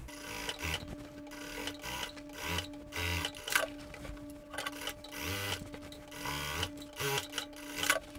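Sewing machine topstitching the side seams of denim shorts, running in short bursts of rapid mechanical clatter with brief pauses, close and moderately loud.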